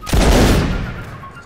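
A single loud musket volley in a video game: one heavy booming crack that rolls out and decays over about a second.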